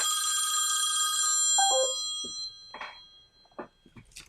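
A cell phone rings loudly with a bright electronic tone while sitting unsealed in a faraday bag, then cuts off, followed by brief faint clicks and soft sounds.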